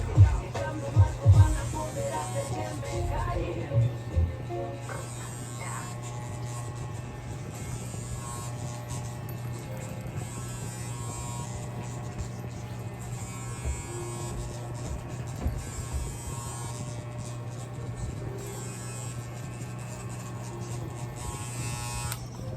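Electric hair clippers fitted with a 3 guard and the lever fully closed buzz steadily through a mid fade on a combover haircut, a constant close hum with small shifts as the blades move through hair.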